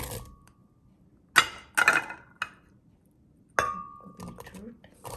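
Apple pieces dropped into a mixer grinder jar, making several sharp, close clinks and clatters in short bursts separated by quiet pauses.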